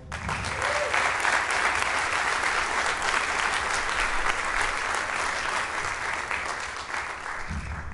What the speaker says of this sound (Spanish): maestro Miguel, Miguel Cruz, para el cual pido un aplauso, por favor.